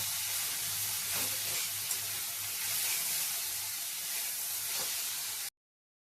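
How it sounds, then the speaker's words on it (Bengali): Radish greens and potatoes fry in a pan with a soft, steady sizzle for about five seconds, broken by a few light scraping stirs, before cutting to silence. "সব উপকরণগুলো দিয়েও ভালো করে নাড়িয়ে ছাড়িয়ে নেব"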